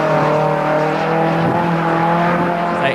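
A classic Datsun 1600 gravel rally car engine roars loudly close by, its harmonic drone shifting in pitch as it revs and accelerates.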